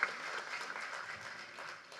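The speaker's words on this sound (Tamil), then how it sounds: "எங்கள் இமயம், எங்களோட காட்ஃபாதர் பாக்கியராஜ் சாருக்கு பலத்த கரகோஷம் கொடுங்க சார்" A crowd claps at a Tamil film audio launch event on stage, a fairly soft, even wash of applause lasting about two seconds.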